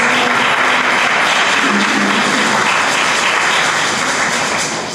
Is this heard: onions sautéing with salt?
no